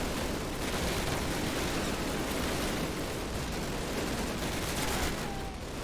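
Two MG42 machine guns and an anti-aircraft gun blaze in Call of Duty (2003) during an airborne D-Day drop over a burning village, merging into a loud, unbroken roar of gunfire that barely lets up.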